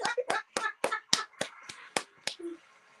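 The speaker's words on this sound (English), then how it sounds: "I gotta give myself the round of applause" One person claps their own hands in a quick series of about ten sharp, distinct claps, close and clear, during a radio interview, with a faint voice murmuring near the end.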